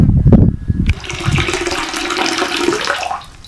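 Drinking water is poured and splashes noisily in the northern Jordan Valley, a steady rushing, gurgling pour that follows a few brief knocks and thuds at the start and then thins out at the end.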